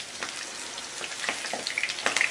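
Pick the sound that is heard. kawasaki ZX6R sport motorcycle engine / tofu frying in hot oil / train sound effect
tofu frying in hot oil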